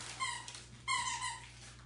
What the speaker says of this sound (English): you hear the dog toy squeaking